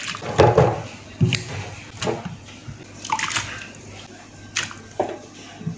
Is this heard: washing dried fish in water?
yes